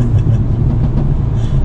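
Engine and exhaust of a 2020 Mercedes-Benz A35 while driving at half throttle with low revs, a steady low-pitched drone that stays close and continuous throughout, with no talking.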